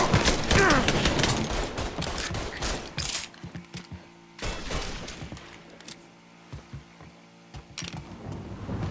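A dense burst of rapid gunfire at target practice in Mafia 3 fires in quick succession, then gives way to scattered single sharp shots and mechanical clatter over a low hum.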